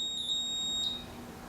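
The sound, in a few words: Brastemp built-in electric oven timer beeping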